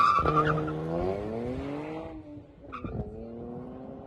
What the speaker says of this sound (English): from the factory, the exhaust is quiet.